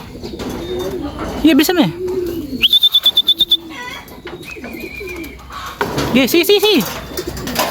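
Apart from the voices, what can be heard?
racing pigeons cooing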